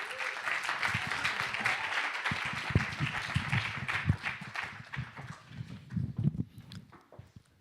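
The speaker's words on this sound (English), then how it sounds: "You can give them a round of applause as they make their way up." Audience applause fills a hall as panelists make their way to the stage, steady clapping with scattered footsteps that thins out toward the end.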